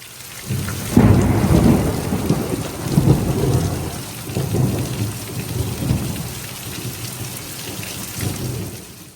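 Thunderstorm with heavy rain in forested hills, loud continuous rainfall hissing over several deep rolling thunder rumbles that rise and fade in waves, close and with no talking.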